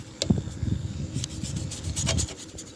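A wooden deck scrubbed with a brush, rhythmic rough rubbing strokes repeating at close range with low thuds, steady and without talk.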